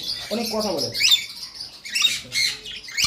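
A tame dusky lory parrot gives a few short, shrill squawks and chirps close by, in brief bursts separated by pauses.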